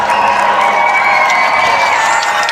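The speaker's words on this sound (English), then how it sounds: "A cheer going up from the crowd." A large crowd outside a building in Wales cheers and whoops loudly and continuously as King Charles III arrives, a dense, steady roar of voices with no gaps.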